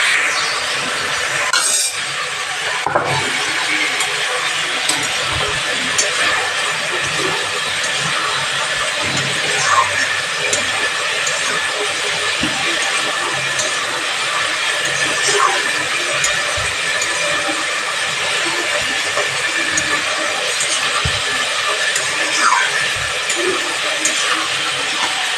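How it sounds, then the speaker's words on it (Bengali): Poppy seeds (posto) ground for an aloo posto dish, a steady, loud whirring grind that holds evenly throughout with faint clinks on top. "পোস্তটা বেটে দিই।"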